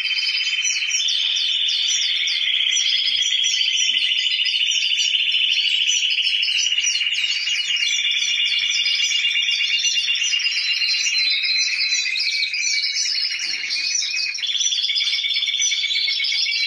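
Many birds in an aviary chirp and twitter nonstop during feeding time. The chorus is loud, close and dense, with high trilling calls layered over one another and no pauses.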